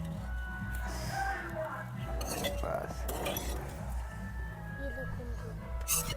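Spoons and steel dishes clink softly during a meal of dal, roti and onion inside a camper van at a rainy jungle campsite, with scattered light clatter under quiet background voices.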